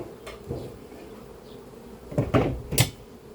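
Honeybees from a swarm that moved out of a tree buzz faintly inside a hive box, a low hum broken by a few louder knocks and thuds near the end.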